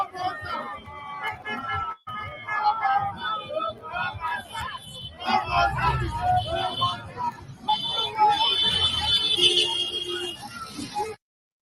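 Protest crowd in Abuja heard through a played recording: a steady babble of many voices with shouting and chatter, moderately loud and continuous, with a brief dropout near the start.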